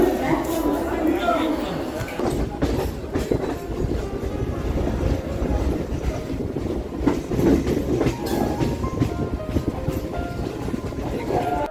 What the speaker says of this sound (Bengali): ট্রেন ছেড়ে দিচ্ছে।